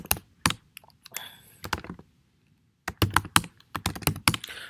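Quick bursts of typing on a computer keyboard, close and crisp key clicks in irregular clusters separated by brief pauses, with no talking.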